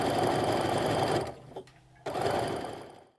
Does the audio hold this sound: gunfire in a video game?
no